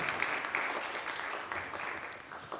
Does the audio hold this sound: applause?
yes